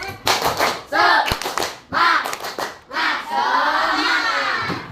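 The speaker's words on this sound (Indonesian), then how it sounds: "Lina coba pimpin untuk tepuk semangat." Children in a classroom chant a rhythmic clapping cheer led by one pupil, with bursts of shouted syllables and sharp hand claps in a patterned sequence, then a longer sustained group shout at the end.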